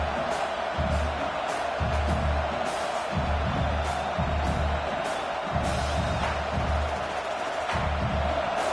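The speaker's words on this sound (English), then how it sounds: "This crowd trying to make life miserable for this offense" A football stadium crowd roars steadily against the opposing offense, a dense, continuous wash of voices with swelling cheers and low rumbling pulses throughout.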